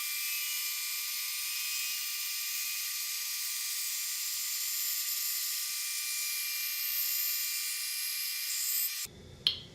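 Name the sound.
band saw cutting thin wood inlay strip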